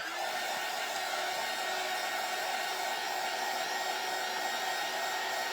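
A hair dryer blows on a craft bunny made from Dollar Tree materials, giving a loud, steady, unbroken whoosh of close airflow that fills the whole stretch with no talking.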